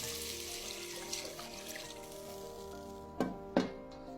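Hot soup poured from a pot in a home kitchen makes a steady, soft liquid rush, ending with two sharper splashes close to the microphone.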